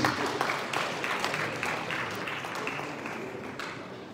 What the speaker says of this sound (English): A round of applause for Brother George, please.